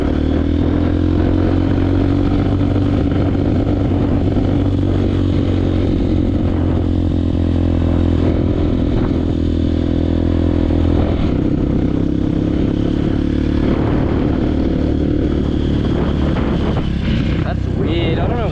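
A motorcycle engine runs continuously and loud, close by, sounding rough and uneven as though the carburetor may be blocked, with a steady drone throughout.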